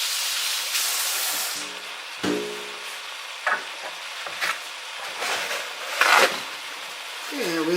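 Tap water runs with a steady hiss while hands are rinsed at a kitchen sink during cooking of Haitian stewed turkey wings, followed by scattered clinks and handling noises.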